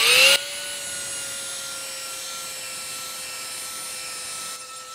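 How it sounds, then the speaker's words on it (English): A rotary polisher whines steadily as it works polish along the edge of a Mercedes-Benz SL55 AMG headlight during color sanding, a loud, even motor tone holding through the clip with a short louder burst at the start. "I'm gonna grab the rotary polisher and I got some polish on it."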